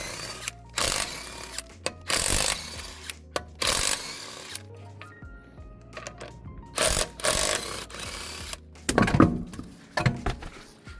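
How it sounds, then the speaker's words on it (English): Wheel bolts, 17 mm, come off a jacked-up 2007–2014 Skoda Fabia, giving short bursts of mechanical whirring and clanking in irregular spurts, with quieter gaps and a rattle near the end. "we can take the wheel bolts off"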